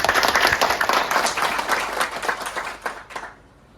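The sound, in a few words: audience clapping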